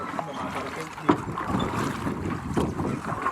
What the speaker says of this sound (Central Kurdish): هێزی خۆی لە سەوڵی بەلەمەکە خەرج دەکات